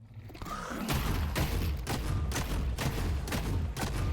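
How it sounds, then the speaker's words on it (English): Shotgun blasts from a video game firefight in Cycle: Frontier, a rapid series of loud, punchy booms roughly every half second, close and dominant with no talking. "Take him down with a shotty."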